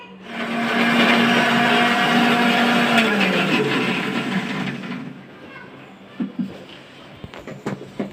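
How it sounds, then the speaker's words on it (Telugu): A kitchen mixer grinder whirs loudly as it blends coconut, ginger, garlic and whole spices, its motor whine holding steady then winding down, followed by a few clanks and knocks as it stops. "దీంట్లో కొబ్బరి అల్లం తెల్లగడ్డ చెక్క మొక్క ఇవన్నీ వేసేసాను మిక్సీకి వేసి పెట్టా"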